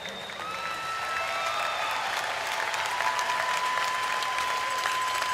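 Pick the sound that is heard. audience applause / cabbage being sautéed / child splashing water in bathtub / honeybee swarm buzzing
audience applause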